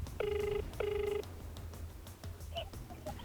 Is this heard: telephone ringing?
yes